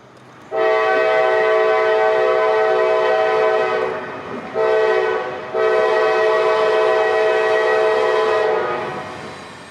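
A CSX freight train led by new America 250 locomotives sounds its horn in long, loud blasts. Three sustained tones are broken by short gaps as it approaches.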